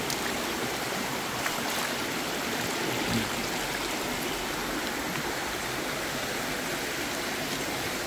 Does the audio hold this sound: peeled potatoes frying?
no